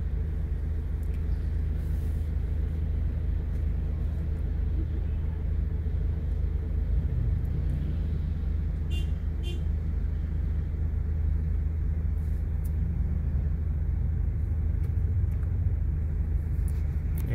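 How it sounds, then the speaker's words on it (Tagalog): Bumper-to-bumper traffic on V. Mapa Street, Manila fills the air with a continuous low rumble of idling and creeping cars, with faint scattered higher noises and no talk. "Talagang bumper to bumper na mga drive."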